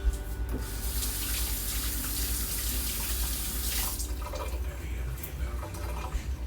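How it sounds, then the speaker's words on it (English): Tap water runs into a kitchen sink while hands are washed, a continuous close splashing rush that shifts slightly in tone as the hands move under the stream. "And wash my hands."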